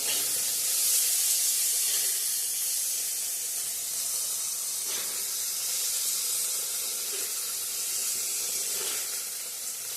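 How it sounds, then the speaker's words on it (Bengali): Paneer fries in hot oil with a continuous, loud hissing sizzle that holds steady close by for the whole stretch, with no voices. "পনিরটাও ভেজে নিচ্ছি।"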